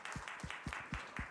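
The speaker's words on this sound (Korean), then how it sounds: "우리 하나님께 사랑과 감사의 박수 다시 한번 올려드리겠습니다" Congregation in a Korean church service giving rhythmic unison claps, about five evenly spaced sharp claps over a little more than a second, fairly quiet and distant.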